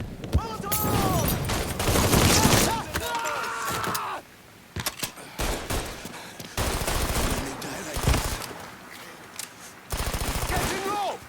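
Bursts of automatic gunfire and single shots ring out in Mafia III combat, loud and dense in repeated volleys with short lulls between, while voices shout over the shooting.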